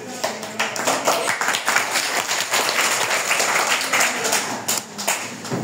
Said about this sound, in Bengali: তাসলিমার জন্য জোরে একটা করতালি হবে